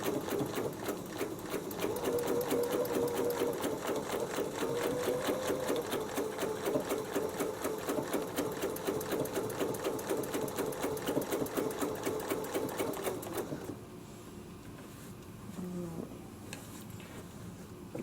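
A sewing machine stitches a quilt block in a fast, steady mechanical buzz for about thirteen seconds, close and loud, then stops, leaving quiet room noise and a faint handling sound.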